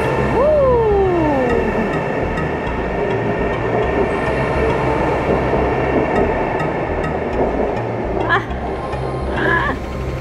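A Chinese high-speed bullet train on the Shanghai to Yiwu route, travelling at up to 350 km/h, gives a loud, constant rushing rumble from inside the carriage, with brief tonal squeals and some faint background voices.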